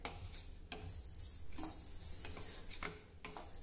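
Whole spices dry-roasting in a pan, a steady soft crackle broken by several sharp scraping strokes of a spoon against the metal as they are stirred, close and without talk.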